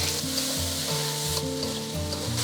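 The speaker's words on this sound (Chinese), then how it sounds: "给它翻炒均匀" Soaked rice and soy sauce sizzle steadily in a hot wok with scallion, ginger and rendered fat, a constant frying hiss under a low humming tone, with no voices.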